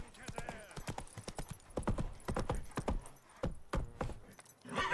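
Roach the horse trots in The Witcher 3 video game, with rhythmic hoof clip-clops on hard ground mixed with jangling tack, fairly close and loud, while a voice talks over the hooves.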